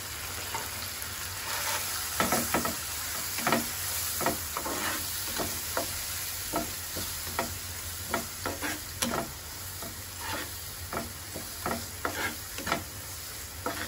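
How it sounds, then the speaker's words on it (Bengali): Spice paste of turmeric, chilli, coriander, cumin powder and salt sautés in a pan for prawn malaikari, a steady sizzle broken by repeated rhythmic scrapes and taps of stirring, close and moderate. "এখন খুব ভালো করে কষিয়ে নিয়ে"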